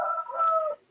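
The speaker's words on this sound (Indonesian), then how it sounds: "Ayam jagonya masuk." A rooster crows once, a short, clear, close call lasting under a second.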